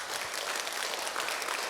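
A church congregation claps together during a family-themed worship service, a dense, even burst of many hands applauding at moderate volume for under two seconds.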